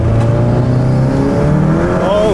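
A car fitted with a Vortex turbo running past 27 psi of boost after a 5-bar upgrade accelerates hard, its loud engine note climbing steadily in pitch toward the top of the rev range, close and continuous.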